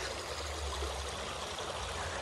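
A rocky river strewn with wood and trash flows in a steady, close rush of water, with a faint trickling texture and no voices.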